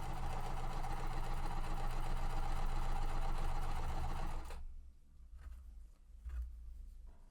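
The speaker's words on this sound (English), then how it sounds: "sewing both at the same time, so that way I'm not cutting the threads between them" A sewing machine chain-pieces quilt fabric pieces for an under-the-sea mystery quilt, running in a loud, steady whir for several seconds before stopping abruptly, followed by quieter handling noises.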